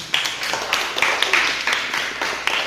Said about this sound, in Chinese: 好，我们给篮球队拍拍手